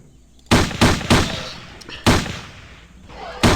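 Rifle fire against raptors in the 1998 video game Trespasser: four sharp, loud shots, three in quick succession and one after a pause, each with a short ringing tail, with faint background noise between them.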